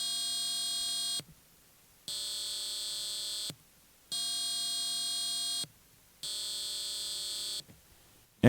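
Square wave tone from an AVR microcontroller timer pin, a harsh buzzy electronic drone sounding in four even on-off bursts of about one and a half seconds each, loud and alone with near silence between.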